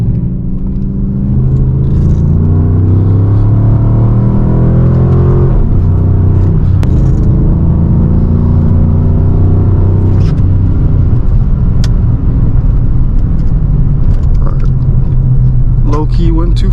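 A Dodge Charger RT's engine rumbles loudly from inside the moving car, its pitch shifting as it downshifts mid-drive, with a person talking over the engine noise.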